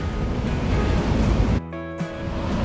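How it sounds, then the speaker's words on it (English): Heavy Pacific Ocean surf breaking on the shore at Lima, Peru, a steady loud wash of waves with a brief dip and renewed rush partway through. "Wow, massive waves."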